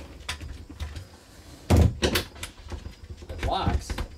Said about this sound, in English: So now, when I go and I close the door,